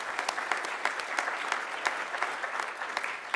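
Dense, steady applause from a convention audience, many hands clapping together at a distance with scattered sharper claps, no talk over it.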